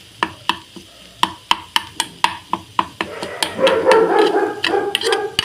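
Spoon scraping and pressing through egg in a pan while cooking egg keema masala, a steady series of sharp close taps with a denser scraping stretch near the end.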